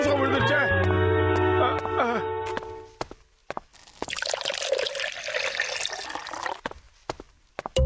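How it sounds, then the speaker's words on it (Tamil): A cartoon chemical pours into a jar in a splashy, trickling stream lasting a couple of seconds, after animated character voices and sound effects, with sharp clicks around it. "மோட்டு, என் அருமை நண்பா, கெமிக்கல் இப்ப ஜார்ல ஊத்துப்பா."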